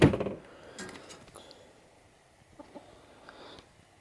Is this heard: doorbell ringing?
no